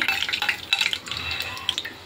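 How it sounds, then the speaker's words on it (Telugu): Chana dal, urad dal and mustard seeds sizzle and crackle in hot oil for a raw mango pickle, with a spoon stirring and scraping the pan up close in quick irregular bursts. "శనగపప్పు 1 స్పూను, మినపప్పు 1 స్పూను, ఆవాలు 1 స్పూను వేసుకుందాము. ఇవి కొంచెం వేగాలి మనకి."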